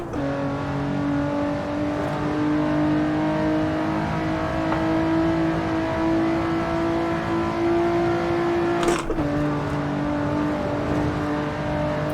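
A British Racing Green Lotus Exige S in third gear on the Nordschleife in the racing game Assetto Corsa, its engine holding a steady, slowly rising drone with a brief gearshift blip near the end.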